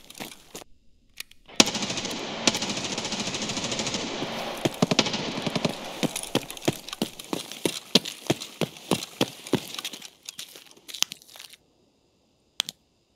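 Rapid gunshots from the shooter game Escape from Tarkov, single player mod, crack out in a dense volley, then thin to separate sharp reports before a pause and one last shot.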